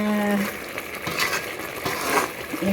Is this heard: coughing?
no